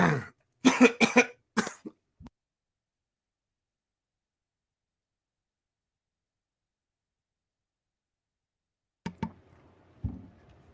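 A close burst of several harsh coughs in quick succession, then a long silence, followed by a couple more faint coughs near the end.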